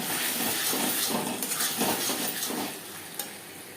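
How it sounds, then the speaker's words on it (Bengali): Spice paste for a tilapia fish curry sizzling and hissing steadily in a pan over medium-low flame, with rhythmic stirring strokes, close and moderately loud, no talking. "মিডিয়াম টু লো ফ্লেমে মশলা কষিয়ে নেব চার পাঁচ মিনিটের জন্য"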